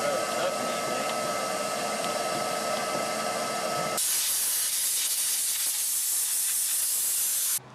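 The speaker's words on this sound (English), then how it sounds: "we vacuumed it up and sprayed it off with the air hose" An air hose blasts a steady, loud hiss of compressed air to clear dust off a fuel pump during a Nissan 240SX SR20DET swap, shifting partway through to a brighter, harsher spray before cutting off abruptly near the end.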